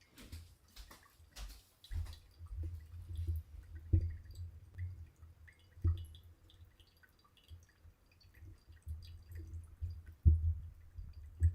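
Water is poured hard into a Verve Dwell pourover coffee dripper, giving a soft trickling stream with scattered drips and splashes, quiet and close, with no voices.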